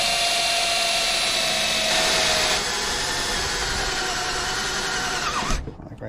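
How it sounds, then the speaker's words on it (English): Power drill pre-drilling holes into the wooden seat back of a 1955 Triumph TR2, a steady high whine running about five seconds at close range, then stopping abruptly. "Now I'll pre-drill a hole for them."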